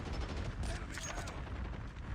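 Rapid gunfire from an Outlaw sniper rifle and other weapons in a first-person shooter game, steady busy bursts of shots mixed with game noise and faint voices throughout.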